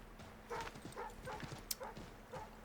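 A dog barks in Assassin's Creed III, several short yips spaced about half a second apart over faint hoofbeats and a low hum, close and moderately loud.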